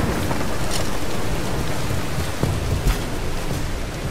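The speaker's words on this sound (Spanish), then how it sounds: "Pinches relámpagos me sacan de onda" Steady rain in Tomb Raider, a dense hiss that stays loud throughout, with a few brief crackles and low rumbles of thunder breaking through near the end.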